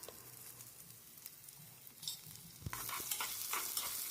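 A spoon stirs chili oil through ingredients in a pan, quiet scraping at first, then the sizzle swells louder and busier in the second half with repeated clinks of the utensil.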